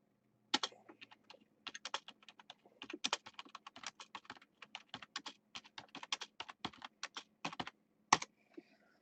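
Rapid typing on a computer keyboard close by, irregular bursts of crisp clicking keystrokes with brief pauses and a final sharper key tap near the end, over a quiet room hum.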